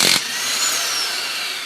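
A Kobalt 1/2-inch impact wrench in reverse removes a car lug nut, giving a short burst then a loud, continuous high-pitched whirring hammer sound that holds steady to the end, close and alone.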